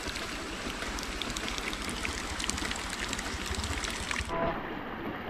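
Water gushing steadily out of a ram pump on a farm, a continuous splashing, pouring rush close by that cuts off near the end, leaving a duller, quieter trickle.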